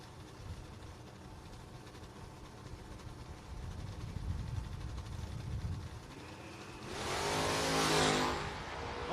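Drag race cars, including a Chevy Nova, at a no-box drag racing event: a low engine rumble builds and then surges into a loud, roaring launch, heard from a distance at a racetrack.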